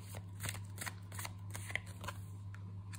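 Tarot cards are laid down one after another with soft slaps and papery rustles, close by, over a low steady hum.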